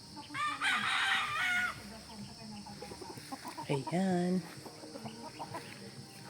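A rooster crows loudly on a small farm, followed by hens clucking and another short crow, close and clear, with a brief spoken word among the calls.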